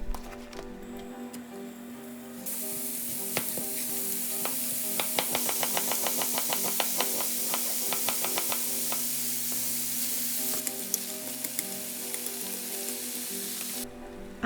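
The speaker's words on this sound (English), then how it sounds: "Fry the beef belly and onion." Beef belly and onion fry in a pan, a constant bright sizzle with rapid crackling pops and ticks that builds in the middle, close and steady, with no talk.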